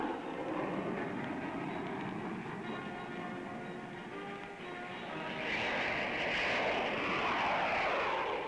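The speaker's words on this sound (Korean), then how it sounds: "먼저 자이중국 썬더 타이거 편대가 나르고" Nationalist Chinese Thunder Tiger jet formation flying past at an international air show in Nevada, a steady loud engine roar that swells and brightens toward the end as the aircraft draw nearer.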